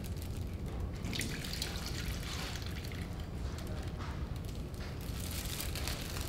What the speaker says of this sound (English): you'll just want to pour the marinade that you mixed together over top of the steak